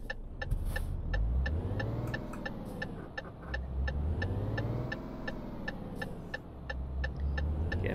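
A heavy truck in Euro Truck Simulator 2 drives along a road on its way to collect cargo, with a steady engine drone and rumble that swells and eases as it shifts through gears, loud and continuous throughout.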